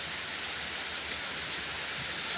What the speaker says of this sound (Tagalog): Kay ulan kayo.